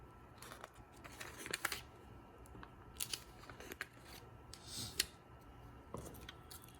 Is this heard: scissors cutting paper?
yes